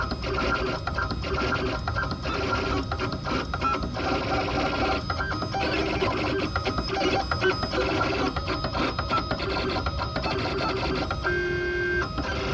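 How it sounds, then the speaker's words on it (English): An M20 engraving machine running a diamond drag engraving pass makes a continuous, busy mechanical whirring and rapid ticking, close and fairly loud throughout, with no talking. "spindle, diamond drag,"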